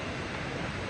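Water pouring down and striking rocks on a rainy, damp day, a steady close roar of rushing, spraying flow with no pauses.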